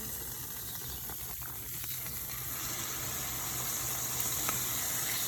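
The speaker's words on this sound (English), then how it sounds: "And then now we got the meat frying" Steady, faint sizzling hiss of pork rib meat frying in a pan, continuous and even throughout with no voices.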